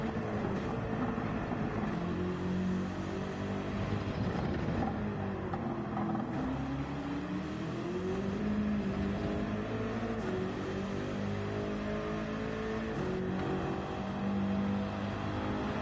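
A BMW race car in Gran Turismo 7 drives Road Atlanta, its engine droning steadily and sweeping up and down through gear shifts, alone and continuous at moderate level.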